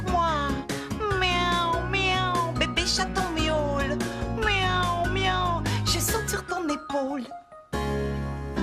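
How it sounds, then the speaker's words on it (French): Kitten meows arrive in a rapid series of high, wavering mews, loud and close over a musical background with some jingling. "Miaou, miaou, bébé chaton miaou."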